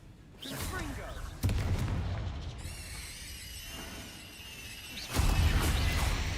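Confringo blasting spell explosions in the video game Hogwarts Legacy: two heavy booming blasts with crackling debris, separated by rumbling combat ambience and a high whining tone.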